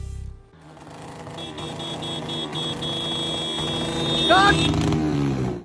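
A loud motorcycle with a modified exhaust runs close by, droning steadily and swelling louder toward the end before cutting off abruptly.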